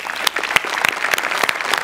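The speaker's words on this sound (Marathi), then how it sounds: "जोरदार टाळ्या यांच्यासाठी" Loud applause for a skit performance on a Marathi television show, close, dense clapping with distinct sharp claps popping out of the steady patter, lasting a couple of seconds without talk.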